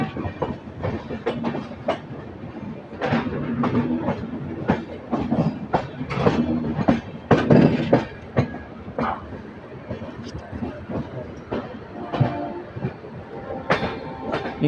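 A WAP-7 electric locomotive rolls along the tracks near Visakhapatnam on its way to couple onto a train, giving a steady rumble with repeated wheel clicks and clanks over rail joints, moderately near and with no talk.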